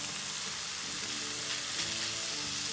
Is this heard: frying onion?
yes